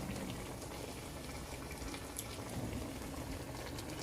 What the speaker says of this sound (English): we have some plantain frying up over there